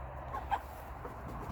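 Hens in a backyard flock give a couple of faint, soft clucks over a low steady rumble, quiet and at some distance.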